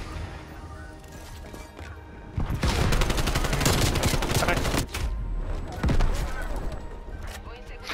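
Bursts of rapid gunfire in Call of Duty crash through the mix, loud and dense for a few seconds, then fade back to a quieter background before another burst.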